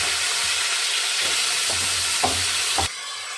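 Tomatoes go into hot oil with popping mustard seeds, giving a steady close hiss with a few scraping stir strokes before the sizzle cuts off abruptly near the end.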